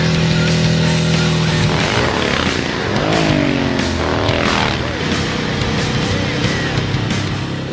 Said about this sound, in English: Has a sort of a racing engine in it compared to our production motorcycles. It has a dual exhaust system